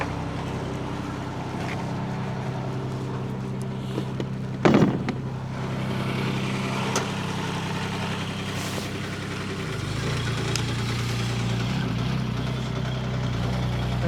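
A Hightop HT20 Pro mini excavator's engine idles steadily and nearby, with a brief clank near the middle and a slight drop in engine pitch toward the end.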